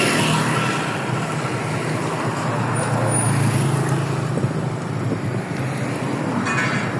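Road traffic entering a town in Laos rumbles steadily past from inside a moving vehicle, a continuous close drone of engines and tyre noise with faint higher whines.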